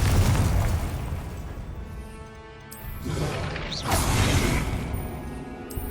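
The Confringo fire spell in the video game Hogwarts Legacy sets off booming blasts amid continuous rumbling battle noise, with bursts swelling near the middle and again toward the end, loud and dense.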